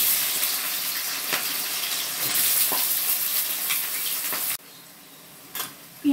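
Onion frying in hot oil with bay leaf, dried chilli and whole garam masala, a steady broadband sizzle for about four and a half seconds, then suddenly quieter with a couple of brief clatters near the end; no talking.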